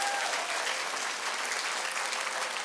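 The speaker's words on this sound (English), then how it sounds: "let's give him a big round of applause." A live audience claps in a steady, dense round of applause at a motivational talk, sustained throughout with no gaps and no voices rising above it.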